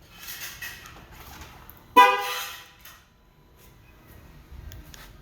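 A 2023 Ford Bronco gives a single short horn toot as it locks, loud and close, amid quiet ticking and faint surrounding noise.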